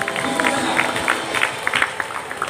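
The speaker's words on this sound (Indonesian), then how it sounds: "Tuhan Yesus Kristus berikan tepuk tangan yang meriah" Congregation at a Papuan church healing service claps for Jesus Christ, a sustained, lively patter of many hands at moderate distance with faint voices mixed in.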